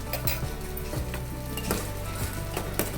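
Sweet potato and makhana kheer bubbling in a pot, a continuous soft sizzle and simmer with occasional light clinks of a spoon or pan, no voices.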